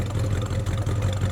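A 1977 Ford XC panel van fitted with baffle mufflers idles with a steady, low exhaust burble, close and continuous with no pauses.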